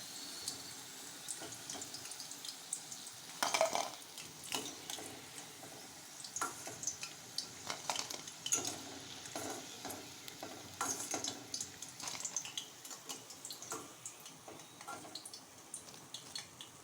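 Fish 65 pieces fry in hot oil with a soft, steady sizzle, broken by stirring scrapes and clatters, close by and fairly quiet, with nobody talking.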